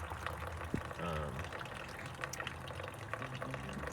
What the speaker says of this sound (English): We're doing a final drain just to see what kind of sediment is in this mix.